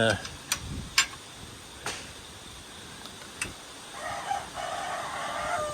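Chickens in a coop cluck in short scattered bursts at close range, mixed with sharp clicks and knocks, and a fuller call rises near the end.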